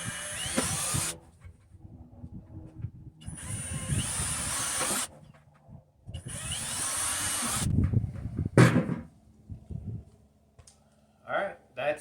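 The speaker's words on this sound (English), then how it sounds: "let's get some holes drilled" A power drill bores holes into a plastic bucket in three bursts of about two to three seconds each, with whining bit and rough grinding, then clatter and handling noise as the bucket is moved.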